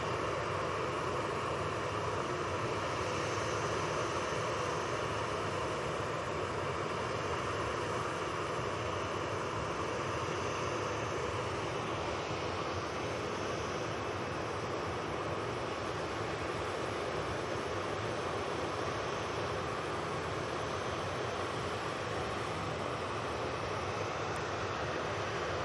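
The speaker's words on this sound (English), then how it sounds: "it's playing back to turn on to finals. It's the Ryanair coming back from fake Brussels." A Ryanair airliner on final approach to Manchester Airport, heard as a steady, faint, distant engine roar that holds through the whole stretch with no talking.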